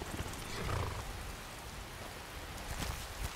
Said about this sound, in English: If you're enjoying the rain, then you carry on, girl.